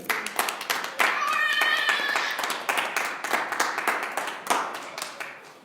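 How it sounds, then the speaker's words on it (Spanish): Church congregation clapping in a sustained burst of applause after a sermon, dense and steady with voices and a few cheers mixed in, fading slightly toward the end. "Denle un aplauso."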